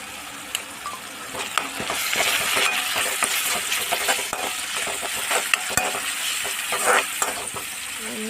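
Fried onions with turmeric stirred in a hot pan for mushroom curry, with close spatula scrapes and occasional metallic taps over a steady frying sizzle.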